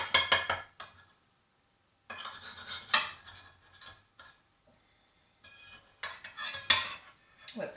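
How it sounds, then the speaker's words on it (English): A utensil cuts a slice from an egg frittata with bacon and mushrooms in a dish, making short bursts of close metal scraping and clinks against the dish, separated by quiet pauses. "So I'm going to cut it and have a little try. So let's cut a nice slice."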